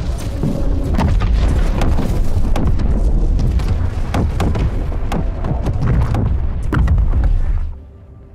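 An Idris capital ship blows apart in Star Citizen, a continuous barrage of deep rolling booms and crackling blasts that stays loud for several seconds before dropping off abruptly.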